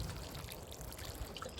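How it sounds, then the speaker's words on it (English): Water trickles and pours faintly onto potted plants in a greenhouse, a soft, continuous splashing and dribbling heard close by with no talk. "I'm gonna water these and show you guys what I mean by like the water pools up."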